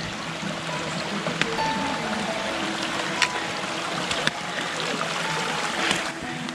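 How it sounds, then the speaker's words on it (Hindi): Mountain stream on the Kedarnath trek in the Uttarakhand hills, water rushing and splashing steadily over rocks in a continuous broadband wash, close and even, with a few faint clicks of footsteps. "इन पहाड़ों से पानी कंटिन्यूसली आता रहता है"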